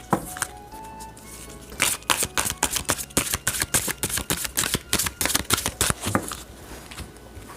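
Tarot cards with unicorn designs are shuffled by hand, a rapid run of crisp, close riffling snaps in quick bursts, followed by a softer card being drawn.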